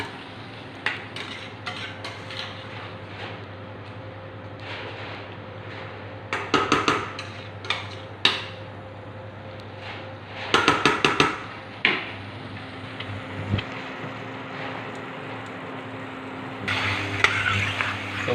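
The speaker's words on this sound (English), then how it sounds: "Mix it well" Chicken jalfrezi with fresh coriander being mixed in a pan, heard as scattered metallic scrapes and clinks of a utensil against cookware, some in quick clusters, over a low steady background hum.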